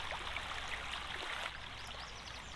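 The Agos River in Daraitan flows steadily, a soft continuous rushing of water over the riverbed, close and even in level throughout, with no talk.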